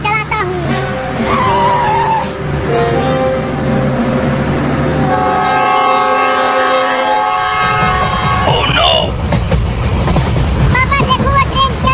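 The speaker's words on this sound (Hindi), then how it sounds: "पापा देखो वो ट्रेन चलने लगी।" A train starts moving, with horn blasts sounding over a rumbling rail noise, close and fairly loud throughout.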